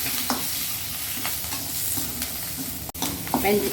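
Chopped onions sauté with mustard seeds and curry leaves in a hot pan, giving a loud, close sizzle with quick scraping strokes of a spoon and a sharp clack near the end.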